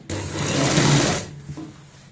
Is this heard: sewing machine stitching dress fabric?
yes